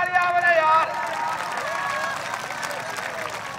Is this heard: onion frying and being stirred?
no